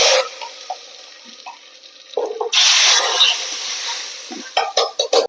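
Hot tempering of chilli, mustard seeds and curry leaves poured into a cucumber and lentil curry: a quiet pan crackle, then a sudden loud burst of hissing sizzle that slowly fades, followed by a few close stirring clinks, no talking.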